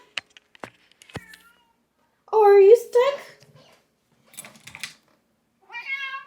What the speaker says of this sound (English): And I hear a trapped kitty. Meow!